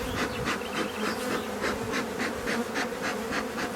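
Honeybee colony buzzing at an open hive: a dense, continuous drone of many bees close by, pulsing slightly in a regular rhythm, with no voices over it.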